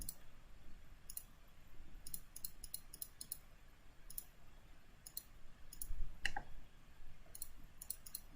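Computer mouse buttons clicking while working in civil engineering software, sparse sharp clicks at irregular intervals, some in quick pairs, faint and close over a quiet hum.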